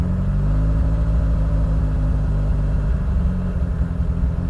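A car engine hangs at elevated revs after the throttle is released, a steady loud droning rumble that holds without dropping, with no speech over it.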